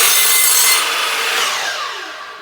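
A mitre saw blade cuts through a piece of wood, a loud bright rasping whine that tapers off as the blade spins down.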